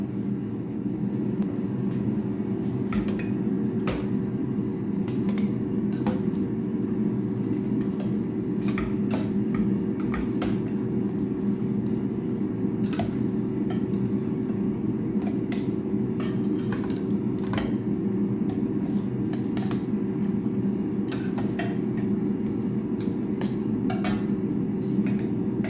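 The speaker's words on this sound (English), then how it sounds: "Just looking for a slotted spoon." Metal cutlery clinks and rattles in sporadic bursts as someone rummages through a kitchen drawer for a slotted spoon, set against a steady, loud hum in the background; no talking.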